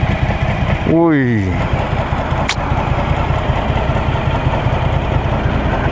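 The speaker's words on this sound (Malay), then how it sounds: "Motor ni motor CS 800 sahabat." A Suzuki CS 800 motorcycle with a custom exhaust idles nearby in a steady, even rumble, while a person briefly exclaims over it early on.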